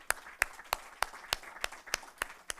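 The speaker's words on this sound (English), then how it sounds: "Let's give them a big hand." Scattered, sparse clapping from an audience applauding award winners at a publishing industry awards ceremony, about nine distinct claps spaced evenly, faint and somewhat distant, with no voices over them.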